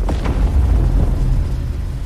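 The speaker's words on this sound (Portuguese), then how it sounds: "Imagine um vazio sem tempo, sem espaço, e então uma explosão." Explosion sound effect, a deep low boom with a sharp onset rolling into a sustained rumbling tail, loud and alone without speech.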